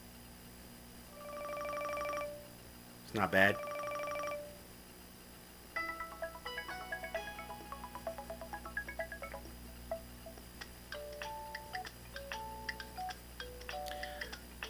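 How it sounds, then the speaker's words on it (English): Several short electronic ringtone melodies from a Michael Kors Bradshaw Access Android Wear smartwatch play one after another, each a bright series of quick beeping notes, with a brief spoken remark between them. "your ringtone, you get to see which ringtone you want. I'll play some of them for you."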